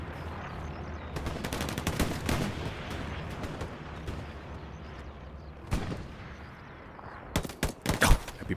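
Gunfire in a competitive 49-versus-49 Hell Let Loose match on the Kharkov St. Mary map, with repeated sharp rifle and machine-gun shots in bursts, some close and loud, others more distant, over a rumbling battlefield background.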